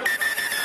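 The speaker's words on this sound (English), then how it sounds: "And referee Seaton whistles us for full time." A referee's whistle blows a sustained shrill blast signalling full time at the end of a men's Division I college soccer national championship final, sounding steady and clear over a faint crowd hiss.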